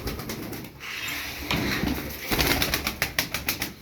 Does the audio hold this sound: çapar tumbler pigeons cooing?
yes